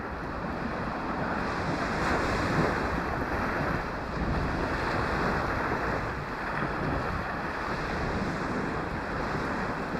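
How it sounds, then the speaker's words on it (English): Steady north wind buffets a Florida Panhandle surf-fishing beach, a constant roar over the rolling wash of breaking surf, loud and close throughout with no voices. "We got wind from the north today, which is not good"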